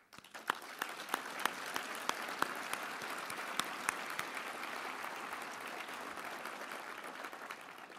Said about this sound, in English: I don't think that's the last round of applause you'll be receiving tonight